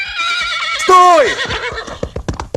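A horse gives a loud, close whinny with a falling pitch lasting about half a second, followed by clattering hoofbeats on hard ground.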